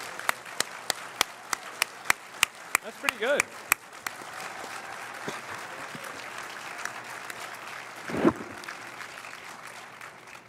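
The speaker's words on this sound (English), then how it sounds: "clap at a normal volume" Sharp individual claps ring out in a steady rhythm at first, then a broader wash of applause follows, with a voice speaking briefly over it.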